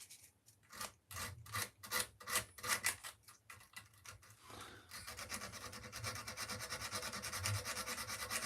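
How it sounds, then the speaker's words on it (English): Sandpaper rubs over a wood carving to flatten it, first in slow rhythmic back-and-forth strokes about three a second and then in a faster, continuous scratchy rasp, close and fairly quiet with no talking. "let's sand this down flat"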